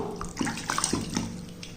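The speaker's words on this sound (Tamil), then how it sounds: "இதை தண்ணியில் போட்டு கழுவிக்கிடுவோம்" A peeled sweet potato is swished and rinsed in water at close range, making quick splashes and drips in an uneven rhythm.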